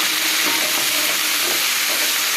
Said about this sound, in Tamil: சிம்மலில் வச்சு நல்லா நம்ம வதக்கி விட்டுக்கணும்